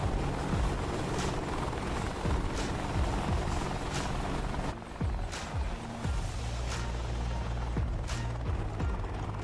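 A radio-controlled helicopter flies a competition run, its main rotor giving a steady loud whirring drone with pulsing blade chops and engine pitch shifts throughout.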